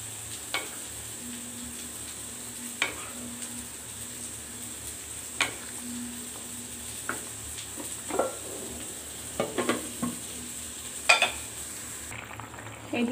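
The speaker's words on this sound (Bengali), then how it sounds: "নাড়া দিয়ে নেব।" A spoon stirs bitter gourd frying with egg, tomato and cumin powder in a pan: a faint, steady sizzle with scattered soft scraping and clinking strokes, close by.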